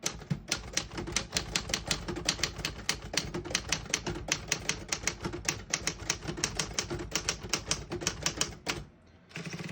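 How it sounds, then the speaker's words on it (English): A 1950 Smith-Corona Super-Speed desktop typewriter clatters through a run of brisk, evenly spaced keystrokes close up, ending with a brief pause and a carriage-return clunk near the end. "all the keys type nice and none of them skip or stick"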